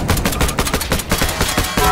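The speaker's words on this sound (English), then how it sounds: "I shot you through the bomb." Rapid automatic gunfire in the Garry's Mod video game, a dense burst of sharp repeated shots at a fast steady rhythm, loud and close with no pauses.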